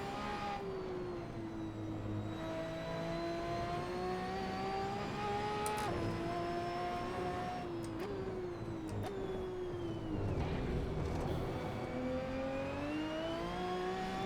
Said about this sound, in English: I hear a car behind me, so let's get on the gas.